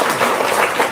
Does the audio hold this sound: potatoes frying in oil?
no